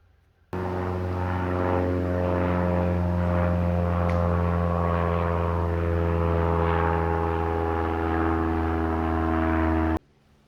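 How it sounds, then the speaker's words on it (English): A propeller airplane drones overhead, a loud steady hum of engine and airscrew lasting several seconds before cutting off. "there's always a plane within half hour going by"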